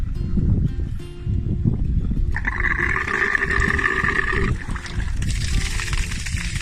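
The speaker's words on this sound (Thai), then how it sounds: "น้ำไหลนะครับ ไหลแรงมากครับ" Water from a solar-powered 1.5-inch groundwater pump pours steadily into a well, a continuous loud gush with a rising tonal whine partway through.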